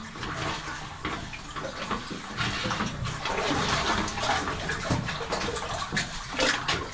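Water sloshing and splashing as someone wades through the flooded passage of Su Palu cave in Sardinia, a continuous close churning wash with louder surges, no clear speech.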